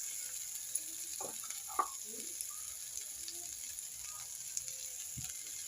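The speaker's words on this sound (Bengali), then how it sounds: "ভালো করে মশলাটা কষিয়ে নিয়ে" Ginger paste, turmeric and red chilli powder frying in a pan for Bengali mustard prawns, a faint low sizzle broken by a few brief stirring scrapes and clinks.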